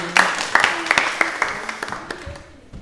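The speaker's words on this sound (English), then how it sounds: "Give a round of applause." Scattered, uneven clapping from a small audience at a live show, with distinct individual claps loud and close that thin out and fade within a few seconds.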